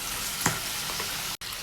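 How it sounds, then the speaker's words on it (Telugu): Tomatoes and spices fry lightly in oil for tomato pachadi, giving a steady, close, even sizzle with a brief spike of crackle, cut by a momentary dropout near the end. "ఆయిల్ యాడ్ చేసిన తర్వాత ఇవన్నీ కూడా లైట్గా ఫ్రై చేసుకోవాలండి"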